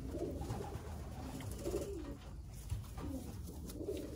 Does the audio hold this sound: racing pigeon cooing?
yes